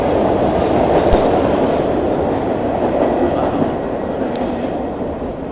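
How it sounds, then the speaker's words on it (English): A train rolls past with a continuous loud rumble of wheels on rails, close by and steady throughout, with a few faint clanks and squeaks over the roar. "Train overtaking passengers!"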